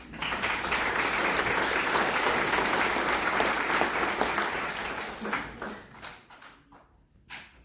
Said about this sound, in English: And I think they deserve a round of applause for that.